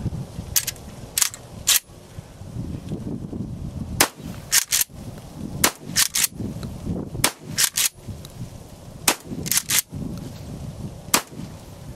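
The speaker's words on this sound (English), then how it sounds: "we're gonna see how this bad boy shoots" A Pardner Pump Protector shotgun fires size six shot outdoors, about a dozen sharp, loud blasts in uneven succession over a steady background rumble, some shots spaced apart and others in quick pairs.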